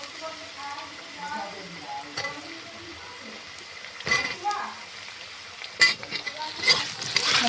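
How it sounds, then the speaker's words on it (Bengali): Taro pieces added to potatoes frying in fish oil in a pan, with a soft continuous sizzle and stirring clatter growing louder toward the end, with faint voices. "এবার আমি কচুগুলো দিয়ে দেব।"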